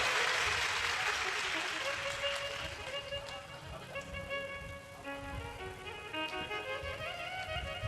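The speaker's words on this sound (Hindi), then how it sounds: "एक बार जोरदार ताली बजाओ मेरे शिव बाबा के लिए" Loud clapping from a crowd at a live Shiv Mahapuran katha, a dense burst that gradually thins as sustained harmonium-like musical tones come in underneath.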